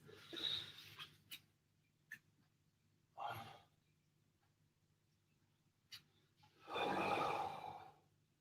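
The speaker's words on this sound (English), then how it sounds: "Good, big deep breaths." Deep, slow breaths during an upper-body home workout, with a long inhale-exhale near 0.5 s, another around 3.3 s and a fuller, louder breath from about 6.7 to 7.8 s, separated by faint clicks and quiet gaps.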